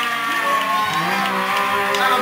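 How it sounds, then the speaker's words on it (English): Crowd at a live rock show in a St. Louis venue cheering and clapping, a short burst of whoops and applause mixed with voices. "That'll be a round of applause."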